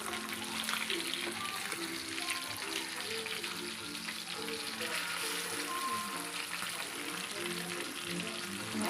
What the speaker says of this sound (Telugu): పీస్ కొంచెం గట్టిగా అవ్వడం కోసమని లైట్గా ఫ్రై చేస్తున్నాం